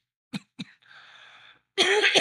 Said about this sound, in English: No, I cough like a pig